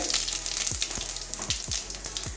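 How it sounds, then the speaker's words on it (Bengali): White cumin seeds dropped into hot mustard oil in a kadai crackle and sizzle steadily, with a handful of sharp pops standing out over the continuous fry hiss, close and moderately loud. "তেল গরম হয়ে গেছে ফোড়নে দেব হচ্ছে সাদা জিরে"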